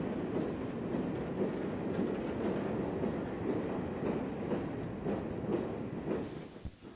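Train hauled by a steam locomotive, heard as a steady, moderately distant rolling rumble with faint rhythmic clatter from the wheels and a brief louder bump near the end.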